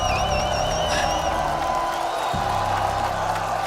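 Crowd at a Call of Duty: Black Ops 7 esports tournament final cheering and whooping, a dense roar with shrill whistles and yells, sustained and moderately loud.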